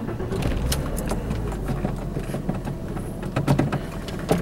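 Porsche Boxster with about 100,616 miles starting on a chilly 57-degree day, a near engine crank and catch settling into a steady idle rumble, with a few sharp clicks and jingles over it.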